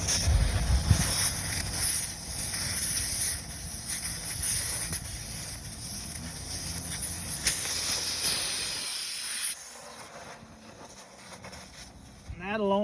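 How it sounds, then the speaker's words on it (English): Air hisses steadily from a leaking valve stem on a semi-truck tire, loud and close. The hiss cuts off sharply near the end, followed by quieter background noise and a brief squeak. "You can hear she's leaking a little, so let's take it out."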